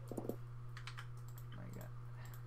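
Keys clatter on a computer keyboard during an online tabletop role-playing session, a quick burst of several close taps followed by sparser clicks, faint, over a steady electrical hum and a brief stretch of voice.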